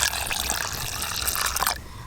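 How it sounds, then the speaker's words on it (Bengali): Water pours and splashes over salted potatoes being washed in a bowl, heard as a steady, close gush and trickle that stops abruptly near the end. "আবার জল দেব"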